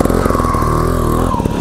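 A Gas Gas TXT 280 trials motorcycle engine revs close and loud, its pitch climbing and holding, then dropping off sharply near the end, with no talking.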